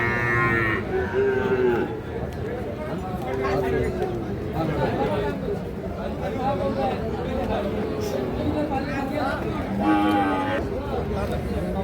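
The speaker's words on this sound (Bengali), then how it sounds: "শাহিওয়াল ষাঁড় বাছুর।" A 5 to 6 month old Sahiwal bull calf moos loudly and nearby at a busy rural cattle market, its calls rising over constant crowd chatter and talking.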